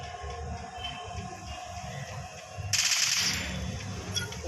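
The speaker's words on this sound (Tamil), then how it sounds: "இங்கேருந்து சுட்டுறான்." Gunfire in a shooting video game, a rapid automatic burst standing out near the end over steady game background noise.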